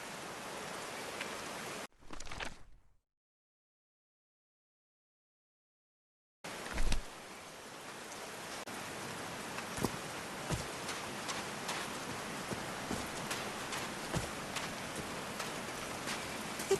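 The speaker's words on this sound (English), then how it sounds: "These drops of rain are so refreshing." Steady rain hisses down in the game Call of the Sea, a dense, even patter with scattered louder drops, briefly cutting to silence before resuming and continuing without talk.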